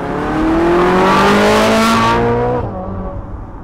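Ferrari 458 Spider V8 in race mode on the Stelvio Pass, a loud close-up run climbing steeply in pitch toward high revs, a sharp howling exhaust that then cuts back to a lower rumble as the car moves away.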